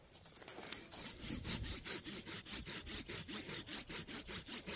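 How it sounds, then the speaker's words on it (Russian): Hand saw cutting off a small tree stump outdoors: rapid, rhythmic back-and-forth rasping strokes, close and fairly quiet, about four strokes per second, with no talk. "Вот этот нужно пенек отпилить."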